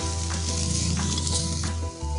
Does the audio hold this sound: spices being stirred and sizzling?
yes